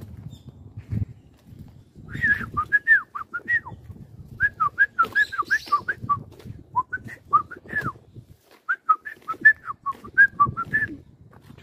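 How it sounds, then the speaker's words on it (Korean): A bird sings in short, repeated chirping phrases, sounding fairly close and clear, over a low background rumble with a few soft thumps. "새가 또 노래를 또 들려주는군요"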